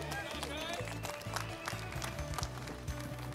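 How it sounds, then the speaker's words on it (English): Applause from an audience at the SEMA show reveal of the Chevrolet eCOPO Camaro, clapping heard under loud music and voices, with people talking over it. "Give them a round of applause."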